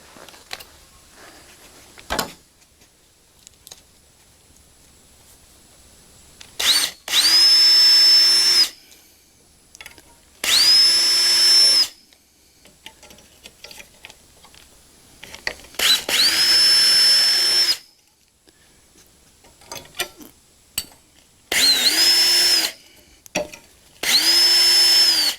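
Power drill driving screws into heavy-duty garage shelving, five loud bursts of whirring motor that rise in pitch and cut off, separated by quiet pauses with small handling knocks.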